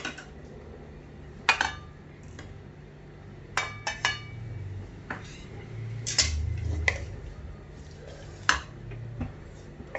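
Ghee going into a kadhai while til besan ladoo is made, heard as close metallic clinks and taps of a utensil against the pan over a low steady background hum, with no talking.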